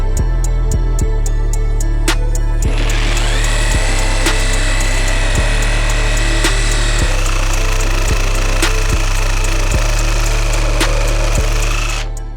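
A Dnipro-M DRS-201BC Compact cordless reciprocating saw cuts with lubricant added, its loud, close motor whine rising into a steady buzzing cut over a rapid rhythmic knock.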